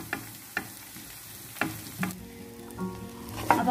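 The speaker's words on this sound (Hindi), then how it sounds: "अब हम इसे अच्छी तरह से मिक्स कर लेंगे" Cooked jeera rice with cumin is stirred in a pan, a spoon scraping and tapping in irregular knocks over a faint sizzle, with a brief clatter near the end.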